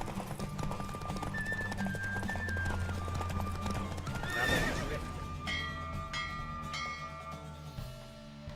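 In The Witcher 3: Wild Hunt, a horse's hooves clip-clop at a gallop and the horse gives a loud whinny midway, with game music and bell-like tones ringing underneath.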